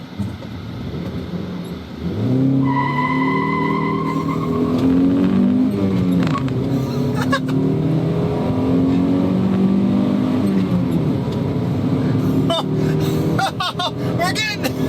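A 2006 Honda Element accelerating hard from 0 to 60 mph, its engine note climbing steadily through the gears over several seconds while a person talks over it inside the cabin.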